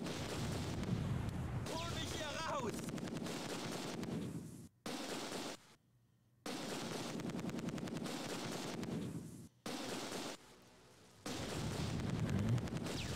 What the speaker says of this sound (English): Now they're firing on the 88.